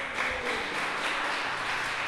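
Church congregation applauding during a worship service, a broad wash of many hands clapping together, steady and fairly loud with no distinct individual claps standing out.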